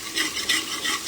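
Onions fry in ghee in a pressure cooker, giving a steady, close hiss and crackle of sizzling with faint stirring scrapes, no voices over it.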